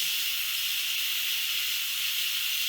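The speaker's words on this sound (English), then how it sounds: "then we go ahead and release the pressure" Steam vents in a steady, loud, close hiss from an Instant Pot pressure release valve switched from sealing to venting, holding constant throughout before cutting off abruptly at the end.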